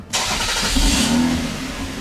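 A car engine fires up and settles into a muffled, steady exhaust drone with the exhaust cutout valve closed, fairly loud and close, with no voices.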